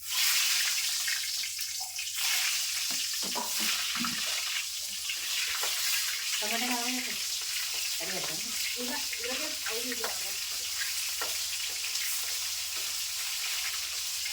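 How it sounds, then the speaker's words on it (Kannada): Sliced onions fry in leftover oil in a pan after brinjal for a palya, giving a steady broadband sizzle throughout, with faint voice-like sounds drifting in midway. "ಈಗ ಇದೇ ಎಣ್ಣೆಗೆ ನೋಡ್ರಿ ಇವು ನಾಲ್ಕ ಉಳ್ಳಾಗಡ್ಡಿ ಫ್ರೈ ಮಾಡ್ಕೊಳಂಬ್ರಿ"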